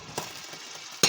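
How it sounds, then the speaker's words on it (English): Tofu sizzling as it simmers and browns in a pan, a steady soft frying hiss punctuated by a couple of sharp stirring or turning clicks, close and brief. "simmer for a bit, and then I rotate it occasionally so it browns on at least each side of the tofu"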